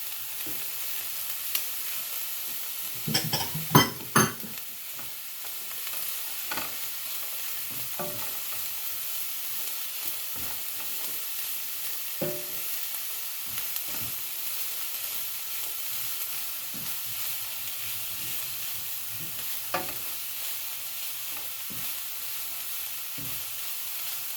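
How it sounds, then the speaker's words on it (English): A Spanish onion cooking for a fresh garden pasta sauce, a faint steady sizzle running throughout, broken by a cluster of clattering stirs early on and occasional spoon taps against the pan. "Next, we're going to get our onion in there. I got some, this is a Spanish onion."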